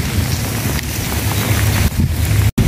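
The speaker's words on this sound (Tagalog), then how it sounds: "Malakas yung hangin, no?" Strong wind roars continuously into the microphone during heavy rain on a fishing trip, loud and buffeting, with rain hiss filling the background and a brief dropout near the end.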